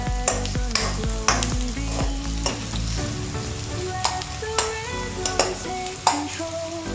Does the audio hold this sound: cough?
no